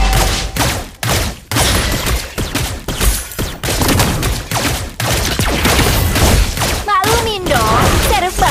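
Gunfire from the hero Layla in the mobile game Mobile Legends, rapid loud bursts of shots and impact booms over game music, with a voice speaking partway through.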